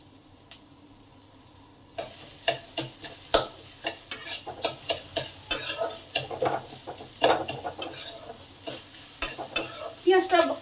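Coarsely chopped, salted onions sizzle in a pan while a spatula stirs and scrapes them in a quick, regular series of sharp strokes, close and clear over a steady frying hiss.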